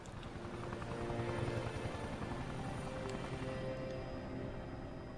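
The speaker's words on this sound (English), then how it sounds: "since it's the end of the game and we're on a helicopter, this helicopter will be fine" A helicopter in the video game Resident Evil: Revelations 2 gives a steady, dense rotor roar with a low pulsing chop, loud and constant throughout.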